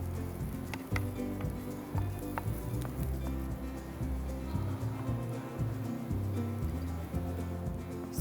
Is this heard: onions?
yes